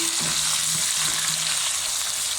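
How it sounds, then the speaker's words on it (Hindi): Tomatoes frying with onions and curry leaves in oil in a pan while biryani is being prepared, a dense, steady sizzle throughout, close and fairly loud with no talking. "टमाटो ऐड करने के बाद इसको थोड़ा सा हम भूनेंगे मज़ीद"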